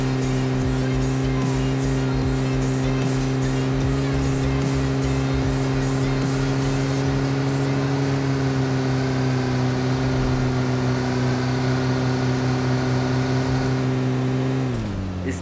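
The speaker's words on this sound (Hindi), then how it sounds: "अब यहाँ पर मुझे एक और गाड़ी दिखाई देती है और मैं इसे काफ़ी टाइम तक चेज़ करता हूँ।" A car engine drones steadily during a video game car chase, holding a constant mid-pitched hum with harmonic layers for about fifteen seconds before the revs drop away at the end.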